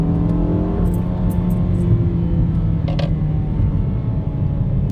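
A 2016 Jeep Patriot Sport compact SUV accelerates in second gear, its engine droning steadily and loudly from inside the cabin while the pitch climbs slowly, with a few brief clicks.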